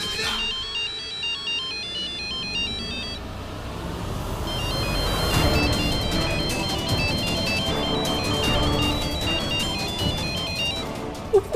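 A mobile phone rings unanswered inside a car, its repeating electronic ringtone melody playing steadily and fairly loud through the whole stretch with no one talking.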